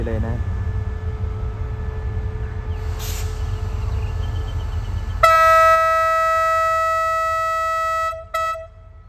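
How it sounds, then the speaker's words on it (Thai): Thai express train no. 83 from Bangkok to Trang departs platform 1 at Surat Thani station. A low rumble and some talk are followed by a loud, sustained multi-tone train horn lasting about three seconds. It cuts off, then gives one brief final blast. "ได้เวลาปล่อยรถด่วนขบวนที่ 83กรุงเทพตรัง จอดเทียบทางที่ 1"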